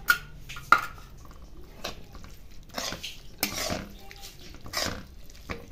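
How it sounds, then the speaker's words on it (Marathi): A khoya and sugar mixture is beaten in a pot for carrot halwa, with sharp metal spoon clinks and scrapes against the pot arriving in irregular bursts, close and without speech. "आता हे जे आपल्याकडे मिश्रण होतं खव्याचं आणि साखरेचं हे मी चांगल्यापैकी फेटून घेते"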